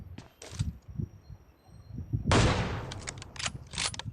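Gunfire in a battle royale mobile shooter: a short burst of shots, a pause, then a loud crack followed by several rapid bursts of automatic fire, all close and without talk.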